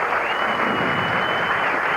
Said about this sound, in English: Applause of the crowd.